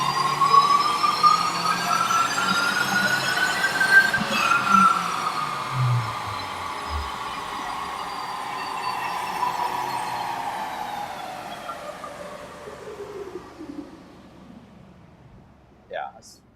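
A 2023 Subaru WRX FA24 on flex fuel runs on dyno rollers with a new exhaust, engine revving up through a long pull, then winding down as revs fall, loud and close, with a voice speaking over it.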